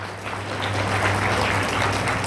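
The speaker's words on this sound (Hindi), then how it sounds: "और आई ऑडियंस से निवेदन है कि जोरदार तालियां बजाएं।" A crowd applauds with steady, dense clapping throughout, heard over a low constant hum.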